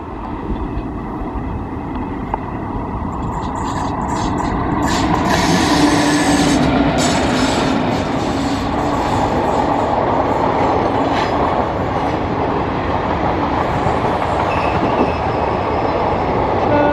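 A passing train hauled by a WAP4 electric locomotive in a vintage cream livery rumbles loud and steady close by, with rolling wheel clatter and a faint high squeal.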